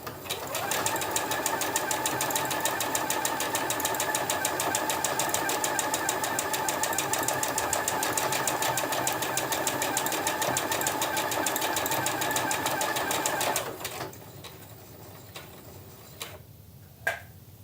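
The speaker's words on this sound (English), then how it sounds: "now I'm just going to simply press firmly on the foot control and do nothing until the machine stops" Sewing machine running on its own to stitch a buttonhole, a steady rapid needle clatter for about 14 seconds before stopping, followed by a few faint clicks and one sharp tap.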